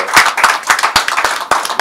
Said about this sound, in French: Je propose qu'on applaudisse au moins